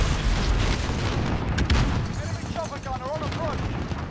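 Sustained gunfire in a Modern Warfare match, aimed at an enemy gunship, forms a dense, loud rumble of shots and booms. Chirping, warbling electronic tones appear midway, and a voice talks under the gunfire.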